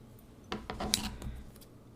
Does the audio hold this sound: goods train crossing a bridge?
no